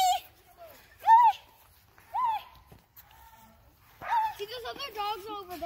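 A few scattered dog barks, fairly close, with people talking in between and over them.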